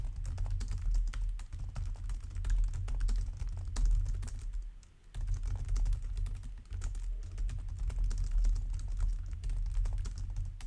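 Fast, continuous typing on a computer keyboard, dense clicking keystrokes close to the microphone over a heavy low hum, with one brief pause midway and no speech.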